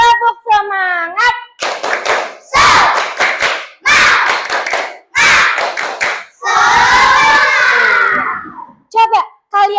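A classroom of Indonesian primary school children claps and chants a spirited Tepuk semangat routine, loud rhythmic bursts of clapping mixed with shouted words, after a teacher's short spoken lead-in.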